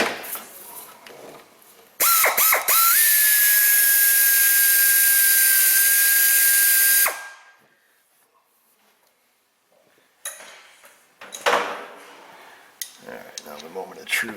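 A 10 mm swivel socket on a ratchet loosens an EGR valve bolt on a Dodge Caravan or Chrysler Town & Country, giving a loud sustained grinding burst of several seconds, then quiet, then a few brief metallic clicks and rattles.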